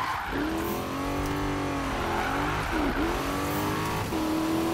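A 1000 hp car roars in the Need for Speed (2015) racing game, its engine revving up and down in harmonic sweeps with brief tire squeal, loud and continuous throughout.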